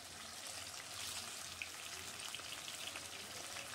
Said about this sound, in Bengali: এবার আমি কড়াই চাপিয়ে কড়াইতে সাদা তেল দিয়ে দিলাম 4 চামচ মতো, দিয়ে এবার চিকেনের পিসগুলো আমি ভেজে নেব।